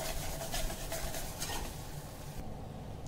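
Semolina roasting in a pan for pineapple halwa, stirred with a utensil, giving a soft continuous scraping and faint sizzle close by with no voices.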